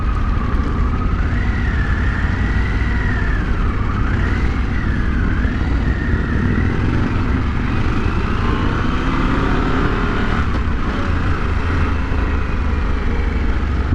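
A 2023 Harley-Davidson Pan America Special motorcycle engine running after starting, a loud steady rumbling idle with faint rising and falling whine-like tones, heard alone without talk.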